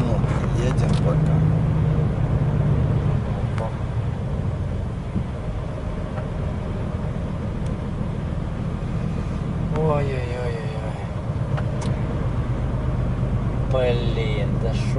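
A truck cruises along a snowy winter road in Euro Truck Simulator, its engine a steady low rumble throughout while voices talk over it now and then.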